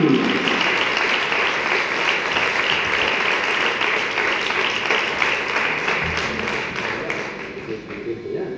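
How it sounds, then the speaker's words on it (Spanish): Live concert audience applauds with steady, dense clapping that continues throughout and gradually thins toward the end. "Un aplauso para ellos."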